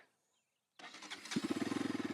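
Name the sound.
Bajaj Pulsar RS 200 motorcycle engine starting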